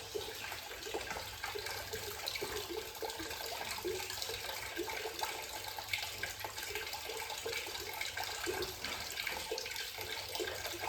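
Water runs steadily from a brass drain tap on an engine block, a continuous close splashing trickle with no break and no talk.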